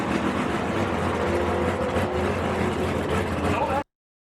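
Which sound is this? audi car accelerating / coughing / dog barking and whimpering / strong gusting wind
audi car accelerating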